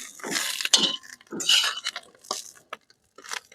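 A lid is lifted off a pan on a griddle tava where small thorny brinjals are steaming for bharit, giving a few brief metallic clinks and clatters amid a nearby voice speaking.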